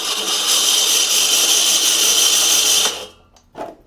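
Toro Greensmaster Flex 21 greens mower reel being backlapped, giving a loud, steady sandpaper-like scraping hum that runs continuously for about three seconds, then cuts off abruptly, followed by a brief faint knock.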